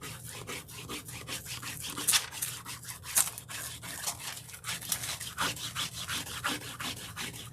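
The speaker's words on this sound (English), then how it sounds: "let's get a good scrub down" A small brush scrubbing back and forth over a satin-covered box, rapid rhythmic rasping strokes close up and continuous, with no talk.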